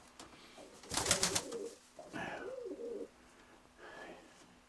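Pigeons in a loft, including a mated pair, give a few soft, low coos close by, with one busier burst of bird sound early on and quieter calls after.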